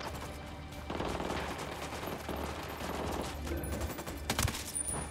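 Squad gunfire in the video game Ghost Recon: overlapping rifle shots crackle in a continuous fusillade, with a few sharper, louder cracks toward the end.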